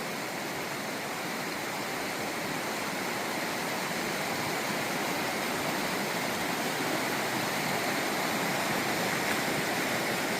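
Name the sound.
river flowing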